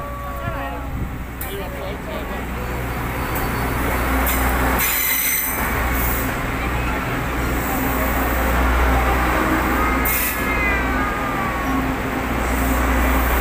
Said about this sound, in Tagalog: Haba ng train ano?